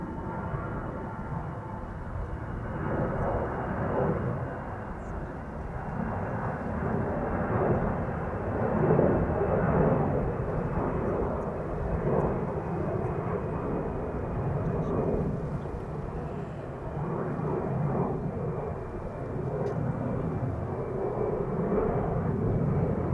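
Croatia Airlines Airbus A320 on flight 451 outbound to Zagreb, heard at Schiphol Airport as a steady, loud jet engine roar that holds for the whole stretch, with a faint voice under it.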